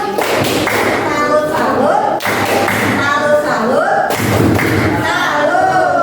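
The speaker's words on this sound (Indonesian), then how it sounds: "Tepuk salut kelompok 2" Children in a classroom perform a rhythmic chanted clapping cheer for a student group, with patterned claps and table thumps in repeating phrases alongside their voices, loud and close.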